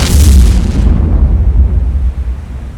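Bombs exploding in the World War II naval game War on the Sea, set in the Dutch East Indies: a loud, close blast that hits at once, then leaves a deep rumbling tail that slowly fades.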